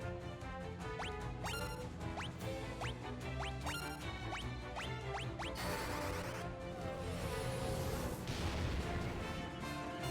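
Beam attacks fire in a Final Fantasy II Pixel Remaster battle: a rapid run of rising zaps and laser-like sweeps over steady game music, ending in a dense, noisy burst of impacts.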